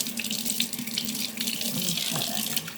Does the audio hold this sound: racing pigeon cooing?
no